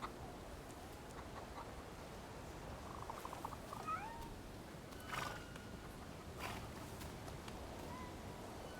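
A faint cat meows somewhere in the video game Thaumaturge, a few soft, distant mews scattered over a low ambient game background.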